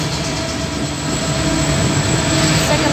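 Train hauled by 82 class diesel locomotives, a continuous loud rumble and drone of engines and wagons running close by without pause, with no talk.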